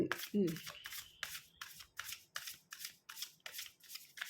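Oracle cards are shuffled in a steady riffling rhythm of about ten crisp, close bursts, each spaced roughly evenly, with a brief voice at the very start.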